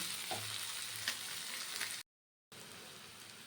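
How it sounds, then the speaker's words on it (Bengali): Brinjal sizzles and crackles steadily in hot oil, with a brief moment of silence partway through before the frying sound returns. "এবারে কিন্তু বেশ ভালো করে ভাজতে হবে বেগুনটা একদম লাল লাল যখন হয়ে যাবে"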